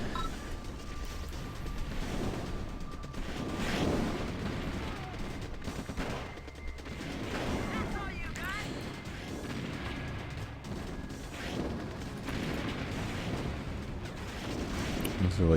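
Artillery pounds away in an OpenRA real-time strategy battle, a continuous barrage of booming explosions and gunfire crackle rolling on for the full stretch, dense and unbroken, with a commentator talking over it.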